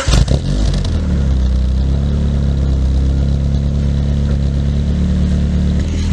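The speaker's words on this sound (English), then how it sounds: "start up the Prelude. This is a 1991 Honda Prelude with B21A1" A 1991 Honda Prelude with a B21A1 engine cold starts with a 2.5 inch exhaust, no cat and barely a muffler: a quick cranking catch, then a loud, steady low idle droning on without talk.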